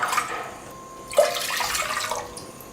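Water poured into a cooking vessel for payasam gives a gushing, splashing stream that pauses briefly and then resumes with a sharp splash, fairly close and with no speech over it.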